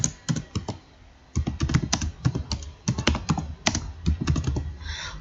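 Fast typing on a computer keyboard while entering MySQL trigger commands in a command prompt, with irregular clusters of crisp close key clicks and a short pause early on.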